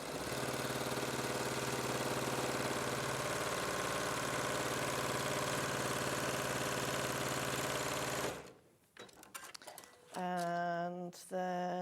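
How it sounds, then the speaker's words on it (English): Sewing machine stitching quilt patches with a quarter-inch seam, a steady close motor whir that runs unbroken for about eight seconds, stops abruptly, and gives way to brief handling noises and a voice. "nest them together, right sides together, and sew with a 1/4 inch seam down each one"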